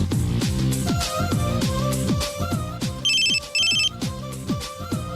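A telephone ringtone plays a bright, repeating electronic melody in a Kannada TV serial scene, loud and close, with a brief high chiming burst partway through and no talking over it.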